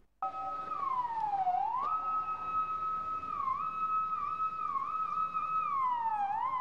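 An ambulance siren wails continuously during an emergency response exercise, its pitch sliding up and down in a steady electronic tone, fairly close and loud with no talk over it.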